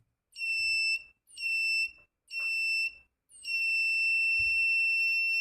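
A buzzer in a transistor-based water sensor circuit sounds in four loud, steady electronic tones, three short bursts followed by a longer continuous one, close and shrill with brief silences between.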